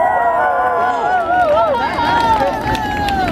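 A crowd cheers and shouts at the Ethel M Holiday Lights event at Green Valley, with loud sustained whoops and voices rising and overlapping close by in a continuous wall of noise.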